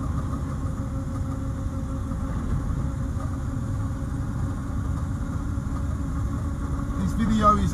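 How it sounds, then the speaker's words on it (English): A 68-year-old Morris Minor with a split windscreen drives along Clacton Promenade, its steady low engine drone and road rumble continuous throughout, heard from inside the car. "Driving Along Clacton Promenade in a 68-year-old Morris Minor"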